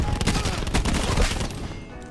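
Rapid automatic fire from a GKS submachine gun in Black Ops 4 rattles off in a dense, close burst of cracks that thins out toward the end.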